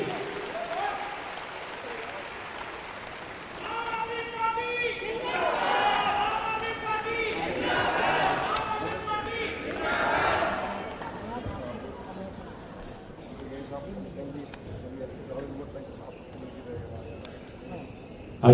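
Audience applause fills a Delhi chief minister's pilgrimage scheme event, a spell of steady clapping running beneath an amplified announcer's voice in a large gathering.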